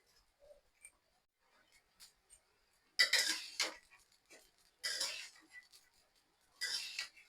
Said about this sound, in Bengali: এই পোলাও চাল আমি 10 মিনিটের মতো ভেজে নিব।